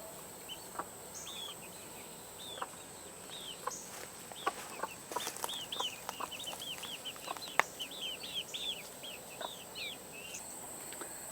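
Chickens cluck near their coop in the evening, with repeated short calls scattered throughout and growing busier toward the end, heard at moderate distance over a steady outdoor hum.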